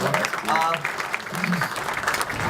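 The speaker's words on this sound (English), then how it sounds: "Give him a big round of applause." A studio audience at an interview show gives a round of applause, a broad, steady wash of clapping from many hands, with people talking over it throughout.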